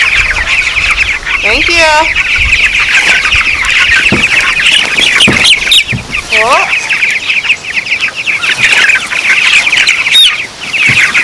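Farm chickens clucking and squawking loudly and close by, with a few rising calls and some wing flaps, while a person speaks briefly.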